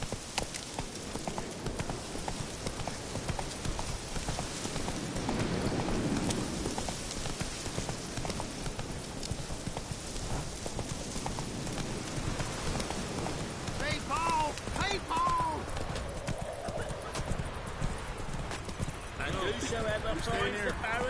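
Hooves of Roach, Geralt's horse in The Witcher 3, clip-clop at a steady gallop over a continuous ambient wash with rain-like hiss, heard beneath spoken voices throughout.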